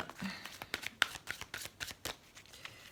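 Tarot cards being shuffled and drawn, a run of close, crisp riffles and slaps with quick flicks and soft taps in an irregular rhythm, faint and alone.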